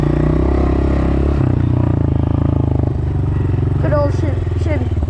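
An old Chevy car engine runs at a steady low rumble close by, its firing pulses throbbing evenly while a person talks over it near the end.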